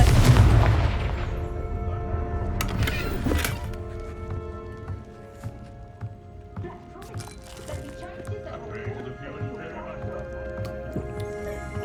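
The Confringo spell detonates in Hogwarts Legacy as a loud, booming blast at the start, followed by crackling fiery bursts, a second impact and lingering magical tones with background game music.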